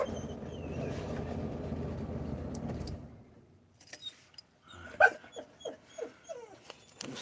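Excitable dog giving a string of high, thin whimpers and whines up close, following a stretch of steady low rumble that cuts out.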